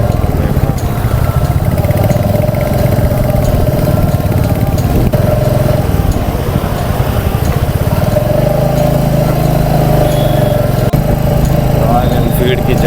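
A Royal Enfield motorcycle engine thrumming steadily and loudly throughout a ride setting out near Kathgodam toward Nainital, a continuous low rumble with a person talking over it.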